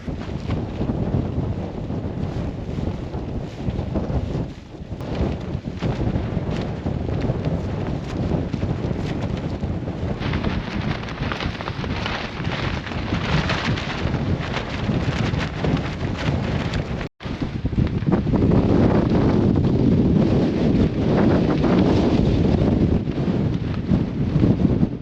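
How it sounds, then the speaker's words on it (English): Strong wind gusting up to about 40 buffets a Nortent Ly 1 tent pitched at a mountain summit camp, roaring steadily and close for the whole stretch, surging louder toward the end, with no one talking. "the wind's been gusting up to 40"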